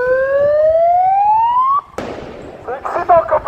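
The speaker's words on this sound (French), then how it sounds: "Sirène, je te filme, vas-y sirène" A siren rises in a long close wail at a taxi strike protest and then cuts off abruptly, followed by a sharp bang and a burst of crackling, crowd-like noise.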